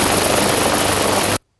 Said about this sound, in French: Félix-Antoine Tshisekedi Tshilombo, est arrivé en hélicoptère ensemble avec le président zambien Edgar Chagwalougou à Kazungula du côté zambien